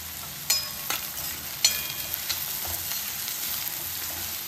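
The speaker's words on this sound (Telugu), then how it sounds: "ఇలా మీడియం ఫ్లేమ్లో పెట్టుకొని ఉల్లిపాయలు బాగా వేగే వరకు ఇలా వేయించుకోవాలి" Onions fry in a pan over a medium flame for an egg curry with tamarind leaves, a soft continuous sizzle broken by a few sharp spatula clicks and scrapes, heard alone without talk.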